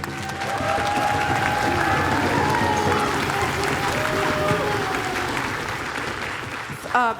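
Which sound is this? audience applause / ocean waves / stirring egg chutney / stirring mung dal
audience applause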